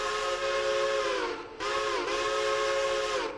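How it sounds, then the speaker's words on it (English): A modded C&J steam locomotive whistle from the Railroader train game blows two loud, steady chime blasts, with a brief dip between them, alone and without talk. "it comes with the C&J modded whistle."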